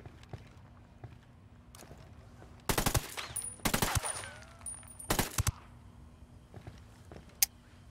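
Bursts of automatic gunfire in Ghost Recon Wildlands, three loud clusters of rapid shots spaced a second or two apart over low background game ambience, with a sharp single crack near the end.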